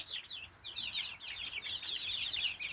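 Several bantam chickens cluck and chatter in a steady, busy run of short calls, close by on a backyard homestead, with a faint low background rumble and no talking.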